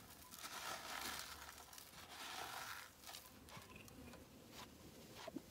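Homemade fertilizer material is ground and crushed by hand into powder, giving a faint, close, uneven gritty crunching and rustling that comes in bursts with short pauses, with no talking.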